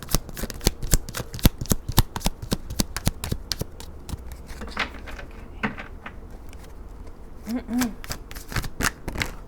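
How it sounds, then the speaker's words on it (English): Tarot cards shuffled by hand, a long run of rapid crisp riffles and slaps up close, with a few brief vocal sounds between. "Cards flying everywhere."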